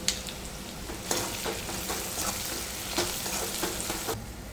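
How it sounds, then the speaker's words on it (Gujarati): Fried bitter gourd is stirred with jaggery in a hot pan, giving a steady close sizzle broken by rhythmic spatula scrapes and stirs, with no voices. "હવે તળેલા કારેલા ઉમેરી દઈશું અંદર."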